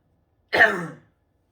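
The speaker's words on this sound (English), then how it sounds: "You might want to cough more." A single short, close throat-clearing cough, sharp onset then fading, with silence before and after.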